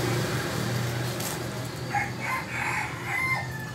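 A fighting rooster crows near the middle of the clip, a couple of rising calls over steady low background noise and a faint engine rumble.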